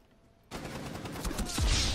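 Gunfire bursts out suddenly in the video game Rainbow Six Siege after a quiet moment, a dense rapid volley of shots that grows louder and closer toward the end, with no talking.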